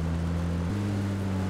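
A buggy engine in a video game, a loud continuous motor drone whose pitch steps up midway through, with no talk over it.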